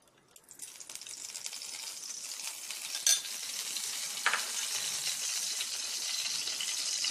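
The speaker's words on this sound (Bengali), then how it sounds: "কড়াইতে এবার 2 চামচ সাদা তেল দিয়ে আমরা আস্তে আস্তে ফ্রাই" Carrots and beans fry slowly in two spoons of white oil in a wok, a steady soft sizzle that grows and holds, with a couple of sharp clinks of a spatula against the pan.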